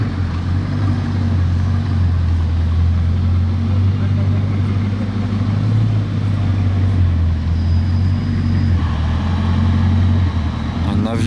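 A Mercedes G63 AMG V8 rumbles loudly at close range, a deep sustained engine drone that swells at times, with a sharper burst right at the end.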